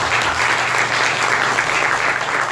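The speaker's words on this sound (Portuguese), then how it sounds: "Palmas para Cris, gente." Steady, dense applause from a lecture audience, continuous clapping filling the whole stretch at an even, fairly loud level.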